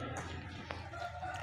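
A hen clucks softly amid a low, steady background hum, with a brief sharp click partway through; quiet and close.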